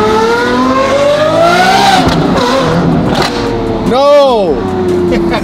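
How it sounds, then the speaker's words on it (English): A loud twin turbo Ferrari F12 engine revs up and down close by toward 8000 rpm, rising in pitch, then a sharp swooping rev near the end, with a brief spoken word. "This is the best sounding car. It sounds like a 90s F1 car."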